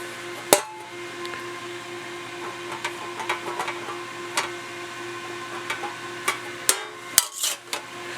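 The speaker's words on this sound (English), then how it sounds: "We're just kind of raising that up, you see, on the power hammer." Irregular sharp metallic knocks from a power hammer shaping sheet metal for a Willys CJ5 fuel tank ring out over a steady machine hum, sometimes in short clustered bursts.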